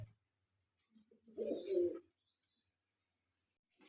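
A pigeon from a breeder's pair gives one soft, brief coo in a quiet loft, with near silence before and after.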